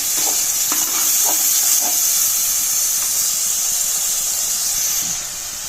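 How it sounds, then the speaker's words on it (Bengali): Spice paste and ground tomato sautéing in hot oil for a rohu fish curry with eggplant and lentil dumplings, giving a steady, close sizzle and hiss throughout with a few faint stirring scrapes and no talk. "এখন এগুলোকে আবার একটু ভালো করে কষিয়ে নেব।"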